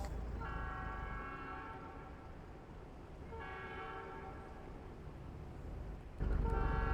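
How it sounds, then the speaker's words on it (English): Horn blasts in American Truck Simulator, three sustained honks from a vehicle at moderate distance over a steady engine and road rumble, with the last one cut off as the rumble grows louder. "Why is that truck honking?"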